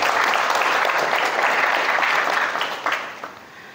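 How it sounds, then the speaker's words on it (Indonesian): An audience at a seminar claps together in a dense burst of applause that gradually thins and fades toward the end. "Boleh tepuk tangan dong buat teman-teman"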